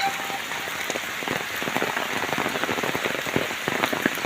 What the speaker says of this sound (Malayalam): അതിശക്തമായ മഴയാണ്. ഒരു രക്ഷയില്ലാതെ പെയ്ത് തിമിർത്തുകൊണ്ടിരിക്കുന്ന മഴയാണ്.